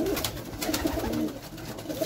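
Pigeons coo in a loft of high-flying Pakistani breeds, soft repeated throaty calls overlapping close by against a faint background hum.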